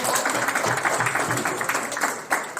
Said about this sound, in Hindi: दादा के लिए जोरदार तालियां।